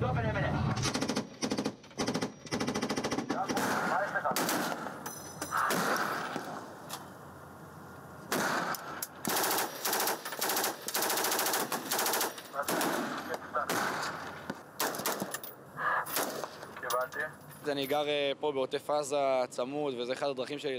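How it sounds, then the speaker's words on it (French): Soldiers near the Gaza border fire machine guns in dense, loud bursts of rapid gunfire that rattle almost continuously for about twenty seconds, with a few short gaps and voices mixed in. "Ils envoient une bombe éclairante avant de déclencher une impressionnante puissance de feu."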